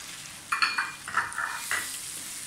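Potatoes and tomatoes with ground spices fry in a pan under a soft background sizzle, broken by several close clinks and scrapes of a spoon stirring against the metal in short uneven bursts.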